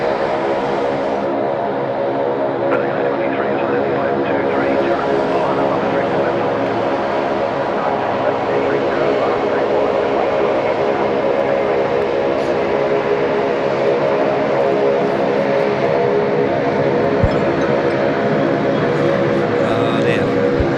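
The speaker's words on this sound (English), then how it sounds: "Well, it's about to get loud. It's not an F-35. It's a Saab 340 or 2." Saab 340 turboprop passing loudly at Sydney Airport, a sustained droning propeller hum with steady tonal bands, constant and close for the full stretch, with voices talking over it.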